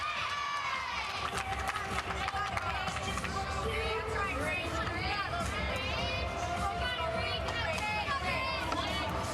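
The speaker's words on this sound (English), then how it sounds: "is how you can hear the teammates in the background" Gymnastics teammates shout and cheer in the background of a Nebraska at BYU meet, amid a busy arena crowd hubbub, with steady voices and chatter running throughout.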